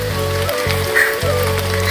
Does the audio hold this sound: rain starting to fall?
yes